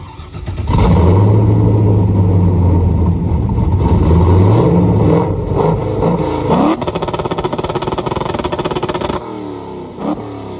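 A 500-plus-horsepower Camaro engine roars up to a high, sustained 5,000 RPM, holds loudly for several seconds, then drops and sputters down toward idle.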